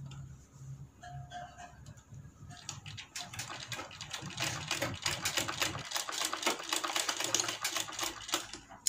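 Sewing machine running in steady bursts as it stitches along a folded seam on a kurti, its needle clatter starting lightly and growing into a loud, continuous rattling run.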